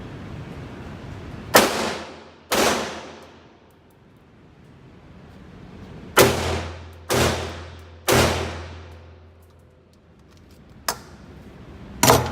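A blank-firing pistol fires seven sharp, very loud shots at irregular intervals, each crack ringing off briefly, with quiet gaps between them.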